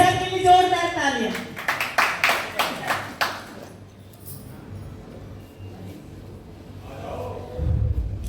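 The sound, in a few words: audience applause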